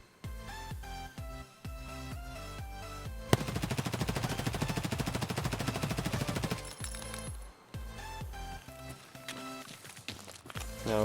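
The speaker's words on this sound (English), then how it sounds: "So let's test this MP5KN first. So let's fire." An MP5KN fires in Escape from Tarkov, first in scattered single shots, then in a long, rapid automatic burst, followed by more separate shots; the gunfire is close and sharp, with no speech.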